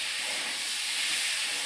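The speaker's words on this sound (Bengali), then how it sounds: "আলু দিয়ে দিচ্ছি, আলুটা সিদ্ধ করে নিচ্ছি।" Potatoes boiling in a pot, a loud, steady broadband hiss and rush of bubbling water that stays constant and close for the whole short stretch.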